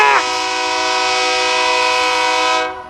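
A single-engine terminal railway train sounds a loud, close horn in one sustained, steady blast lasting a couple of seconds before cutting off abruptly.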